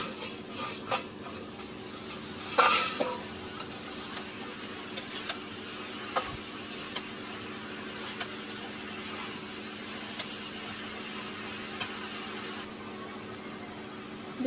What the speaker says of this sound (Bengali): বেটে রাখা আদা রসুন এতে একটু দিয়ে দিলাম। নাড়াচাড়া করে নেব।